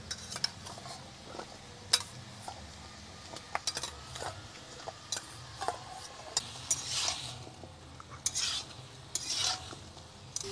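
Pumpkin greens and stems with sweet potato, eggplant and turmeric are stirred in a pan, with scraping spoon strokes and sharp clinks against the metal over a faint, low sizzle, heard close and irregular.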